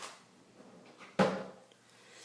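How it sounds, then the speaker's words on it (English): Drawer sliding shut with a single sharp thud partway through, close and fairly quiet, surrounded by faint handling noises in an indoor room. "Just gonna put these away in the drawer."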